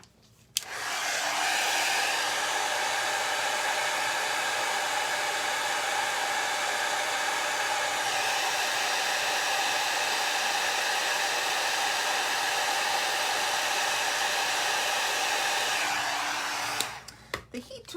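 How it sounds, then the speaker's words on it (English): A heat tool blows steadily to melt embossing powder, a loud continuous whooshing hum that spins up within a second and runs unbroken for about fifteen seconds before switching off. "The heat tool usually takes just a few seconds to get going, and then it goes pretty well."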